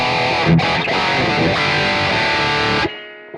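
Heavily distorted electric guitar chords through a Marshall 1959 amp model on a Zoom MS-50G MultiStomp ring out loudly, sustained for a few seconds before cutting off abruptly into a faint decaying tail.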